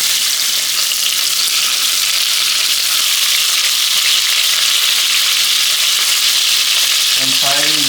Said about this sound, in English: When frying the meat, I'm going to have meat on the half of the bottom of the pan